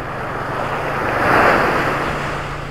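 Ocean waves break on a Gulf beach in North Naples, Florida, a steady, loud, close-up wash of surf that swells and peaks midway before easing back, with some wind noise.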